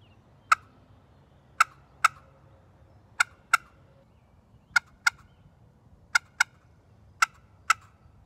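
Sharp clicking cuts from a turkey slate call, the striker popped down onto the slate: about twelve crisp, evenly loud strikes, mostly in quick pairs spread over several seconds, close and alone against a faint low background hum.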